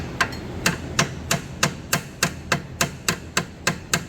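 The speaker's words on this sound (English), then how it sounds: "as soon as you press it up against where it's going, you're going to tap it" Steady hammer taps on a suspension part while fixing the camber on a Mopar, about a dozen sharp, evenly spaced metallic strikes close by with no talk.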